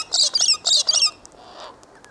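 An Indian ringneck parakeet calls with four loud, harsh, rapid screeches close by, followed by a few fainter, softer chirps.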